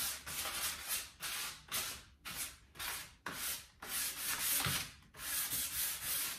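Hand sanding of chalk-painted furniture with 220 grit sandpaper: steady back-and-forth rasping strokes, about eight passes in a rhythmic series, close and fairly loud with brief pauses between strokes.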